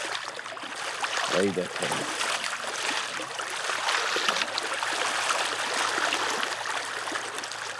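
River water rushes and gurgles steadily around someone wading into a cold river in front of a house, a continuous close wash of water with a brief spoken voice near the start.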